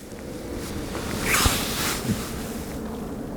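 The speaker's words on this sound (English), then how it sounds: "the wind's turned right round as well now, as I said it would, and it's coming in from right to left at the moment" Wind gusting across an open reservoir shore where a bivvy is set up for fishing, a broad rushing noise buffeting the microphone and swelling mid-way before settling.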